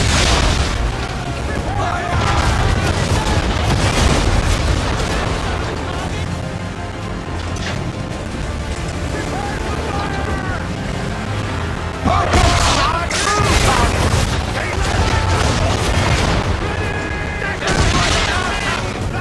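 Ship cannons firing during a naval battle in the video game Assassin's Creed 3, heavy booming volleys rolling under shouted commands, dense battle noise throughout with louder bursts near the end.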